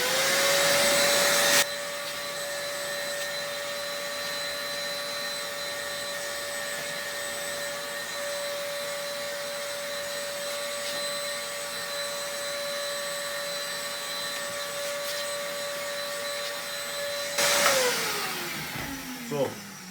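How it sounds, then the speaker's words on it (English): A vacuum cleaner runs steadily and loud for a long stretch while cleaning a mobile air conditioner unit, its whine holding constant before switching off near the end. "So time to start the vacuum."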